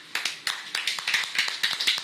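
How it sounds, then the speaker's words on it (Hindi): Hand claps from an audience applauding at an RCM business plan meeting, a quick run of sharp, fairly close claps that keeps going steadily for about two seconds without voices. "और सर जी के लिए जोरदार ताली।"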